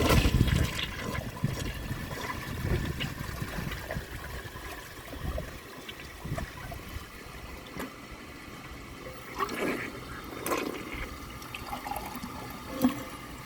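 A 1991 Kohler Wellworth toilet flushes with a dish towel in the bowl, sending a quiet swirl of running water that settles into trickling and refilling, with a few small clunks near the end.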